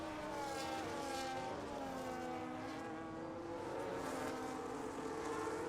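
Formula 1 race cars in the F1 25 video game at the British Grand Prix: a steady, continuous engine whine with layered tonal drones from several cars, held at a low, even level throughout.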